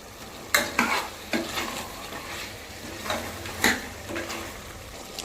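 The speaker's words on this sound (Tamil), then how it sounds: "இப்போ நல்லா இது கிளறிக்கலாங்க" Stirring mint chicken curry in a hot pan after adding chilli powder: repeated scraping strokes of a spoon against the pan over a steady sizzle of frying food, close and clear.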